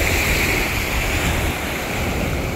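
Lake Michigan waves wash steadily against the shore on a warm, mildly breezy day, a continuous, fairly loud rush of surf with light wind noise and no pauses.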